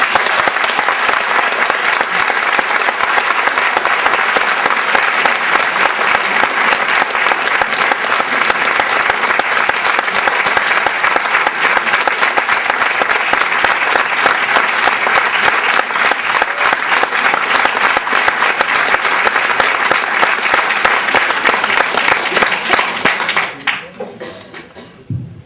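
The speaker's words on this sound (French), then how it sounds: "Et vous avez bien raison de l'applaudir chaleureusement." A crowd warmly applauding at a speech event in Villefranche-sur-Mer, loud sustained clapping that carries on for over twenty seconds before abruptly dying away at the end.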